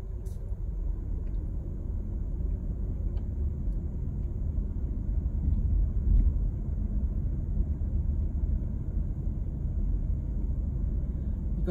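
A car drives along Big Cove road near Fodder Creek Mill, heard from inside as a steady low rumble of engine and tire noise that swells slightly midway and carries on with no talk.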